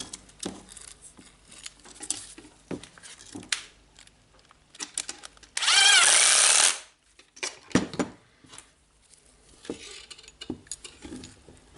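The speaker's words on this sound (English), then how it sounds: "Now I will put the screws for the field." Screws being driven into the field of a Makita 9565CVR corded angle grinder, with scattered close metallic clicks and taps around a loud buzzing burst of a powered screwdriver lasting about a second, then more small handling noises.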